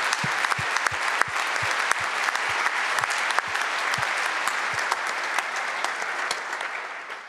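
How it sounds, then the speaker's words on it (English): A large conference audience at a Python developer gathering in Berlin claps in a sustained round of applause, dense and steady throughout with scattered sharper claps standing out. "So maybe we can give a round of applause."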